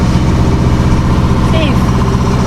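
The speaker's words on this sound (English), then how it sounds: "We have our engine on today." A Hanse 291 sailing boat's inboard engine runs steadily, giving a loud, continuous low drone with an even idling throb throughout and no voices.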